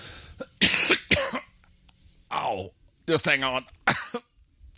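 A man coughs a few times between short bursts of speech, near and clear; he has twisted a rib, so the coughs sound pained and restrained.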